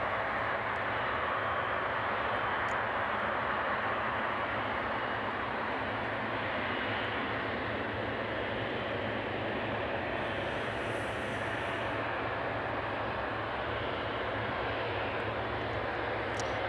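A Jet2 airliner turning onto final approach at East Midlands Airport on a foggy evening gives a steady, broad engine roar that holds evenly loud throughout, with no voices.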